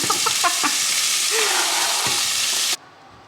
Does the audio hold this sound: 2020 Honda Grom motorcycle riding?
no